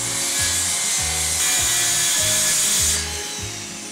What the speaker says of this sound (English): Your next step is to make the angled cuts.